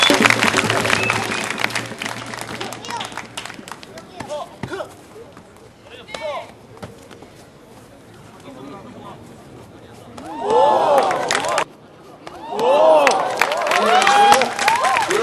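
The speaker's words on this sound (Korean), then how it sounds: "박수 한번 부탁드립니다" Audience applause and crowd noise at a taekkyon match between Jeonbuk National University and Gwanak-gu, swelling in bursts over a lively arena with a speaking voice heard through parts of it.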